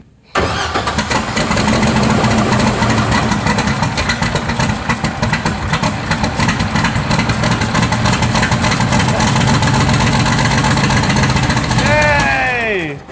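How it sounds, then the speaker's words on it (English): Datsun race car engine, built for a 24 Hours of LeMons endurance race, cranks and fires, then runs loud and close with a rough, steady idle before shutting off at the end. "we're gonna fire up the motor and make sure that we have killed that noise once and for all"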